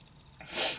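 A single short human sneeze outdoors on a cold day, a sudden breathy burst rising from near-quiet, close to the microphone.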